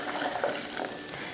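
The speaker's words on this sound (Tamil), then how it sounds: "இதில் ஒரு 1/2 லிட்ரு தண்ணி ஊற்றுவோம்" Water poured from a vessel onto chopped beetroot for homemade beetroot wine, a steady splashing pour close by, lasting the whole short moment with no talking.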